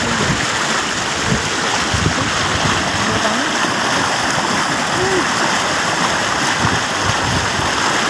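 Water from the season's first monsoon rain rushes steadily along a village stream, a constant dense wash with a faint voice underneath.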